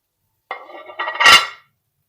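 Boiled spaghetti dropped into a pan of cooking garlic and ginger: a short, close clatter and sizzle that swells into a bright hiss, then quickly fades to silence.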